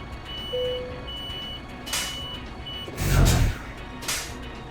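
Reversing beeps from a truck in the Euro Truck Simulator 2 video game repeat as a regular high-pitched series over engine noise, broken by a few louder hissing bursts, with no voices.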